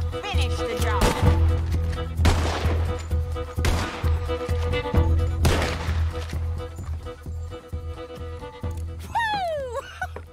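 Gatling gun and gunfire in the video game Red Dead Redemption 2: several loud, sharp gunshot bursts with crashing impacts over a steady low rumble, spaced a second or two apart, ending in a rising whistling tone.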